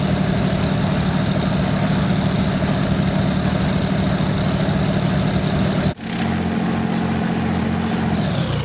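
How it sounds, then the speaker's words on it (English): Aircraft engines idle in the X-Plane 11 flight simulator during a flight over New Zealand's West Coast: a steady, loud low drone that drops abruptly partway through as the engines are shut down, leaving a fainter hum. "Turn off the engines."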